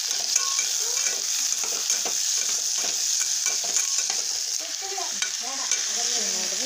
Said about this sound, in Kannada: ಎಣ್ಣೆ ಒಳಗೆ ಫ್ರೈ ಆಗತ್ತೆ ನೋಡ್ರಿ ಹಿಂಗೆ